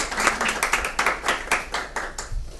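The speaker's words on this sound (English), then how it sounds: "Give these two a round of applause." A small workshop audience claps for two participants after a maths demonstration, a few seconds of uneven, moderately close handclaps with no talking over them.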